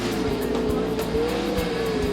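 Sprint cars race flat out on a dirt speedway during a nighttime heat race, a loud continuous engine roar with sustained high-pitched whine and rhythmic surges as cars slide through turns.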